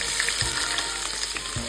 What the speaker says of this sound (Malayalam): നമുക്ക് ഉള്ളിൽ കുറച്ച് വറുത്തെടുക്കാം.